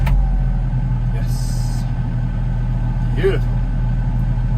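A car engine idles steadily after being restarted following an AdBlue fault, a constant low rumble running throughout, with brief higher-pitched noises and a short voice-like sound partway through.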